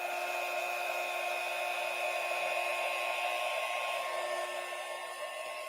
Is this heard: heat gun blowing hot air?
yes